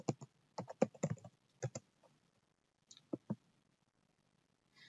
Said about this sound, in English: let me just type 17 over here